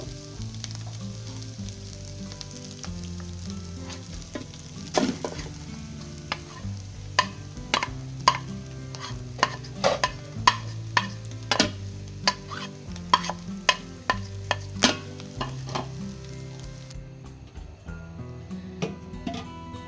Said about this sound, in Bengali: ভাবে ফ্রাই করার পর আমরা ছোলার ডালগুলো দিয়ে দেব